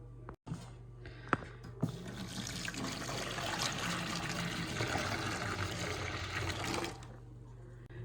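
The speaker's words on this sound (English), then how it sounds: "Now I'm going to add some water, which I heated up in the kettle" Hot water from a kettle pours steadily into a cup for several seconds, a continuous splashing trickle close by, ending abruptly.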